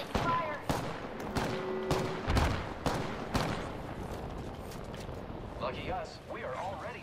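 Weapons in the Apex Legends video game fire in sharp bursts of loud shots during the first few seconds, then thin out while players talk over the game sound.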